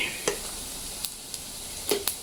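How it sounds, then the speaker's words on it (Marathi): Spiced phodni tempering stir-fried in a pan gives a faint, low sizzle with a few sharp clicks and scrapes of stirring at intervals, close by and without talk. "कूट घातल्यावर चांगली परतायची फोडणी आपल्याला"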